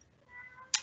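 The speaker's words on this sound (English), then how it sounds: "I'm sorry if you can hear a screaming cat in the background" A cat screams somewhere in the background of a quiet indoor room: a faint, drawn-out yowl builds briefly and ends in a short, sharper cry.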